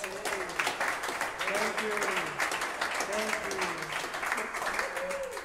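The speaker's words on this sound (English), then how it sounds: "So big round of applause." An audience applauds after a live concert by a duo plus one, with steady, dense clapping throughout, while a voice speaks over it through a sound system.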